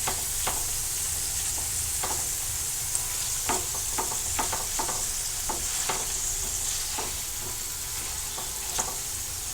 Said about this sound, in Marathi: एक फक्त 2 ते 3 मिनिटं याला व्यवस्थित शॅडो फ्राय करून घ्यायचं, जास्त नाही.